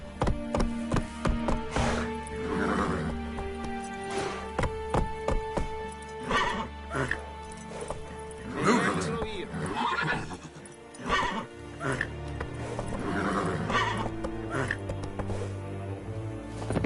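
A horse in the Witcher 3 video game whinnies and neighs while its hooves clip-clop on the ground, mixed with game music and a rider urging it on, the neighs loud and recurring over steady footfalls.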